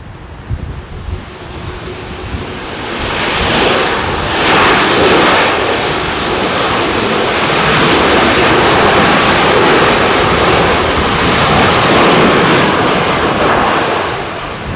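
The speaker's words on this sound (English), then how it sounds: "that really does give you a good idea of how those reversers work" A heavy airliner landing on Heathrow runway 09L with thrust reversers deployed, a loud sustained jet roar that swells after a few seconds and holds steady, mixed with wind buffeting on the microphone and no voices.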